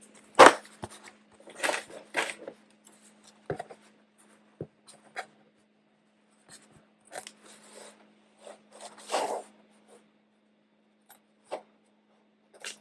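Junk scissors trimming fabric at a sewing table beside a tacked-in zipper give a scattered series of short, crisp snips and scrapes with quiet gaps between them, close and fairly soft.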